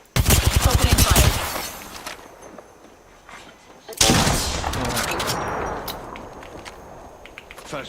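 Video game gunfire: a loud burst of rapid automatic shots, then a pause, then a second heavy volley trailing into echoing, decaying fire, close and dominant.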